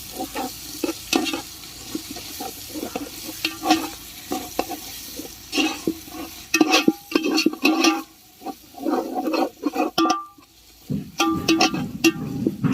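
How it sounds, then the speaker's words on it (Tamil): Ginger garlic paste sautés in hot oil for a biryani, a continuous close sizzle punctuated by frequent scraping stirs and spatula knocks against the pot in an uneven rhythm. "இஞ்சி பூண்டு பேஸ்ட்டு நல்லா வதங்கிடுச்சு"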